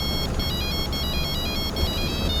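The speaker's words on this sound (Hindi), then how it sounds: "भाई, तुम्हारे फोन पे कोई फोन कर रहा है।" A mobile phone rings nearby with a repeating pulsed electronic ringtone pattern, steady and fairly loud over a low background hum.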